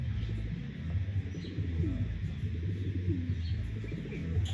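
Racing pigeons arrive at a loft during a race in Pagbilao, Quezon, cooing in low, repeated throaty calls close by over a dull background rumble.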